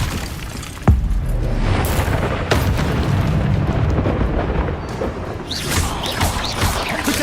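A Confringo fire spell blasts in Hogwarts Legacy, opening with a sharp, loud explosion that gives way to a long roaring rumble, then a second smaller boom and crackling debris, all close and loud.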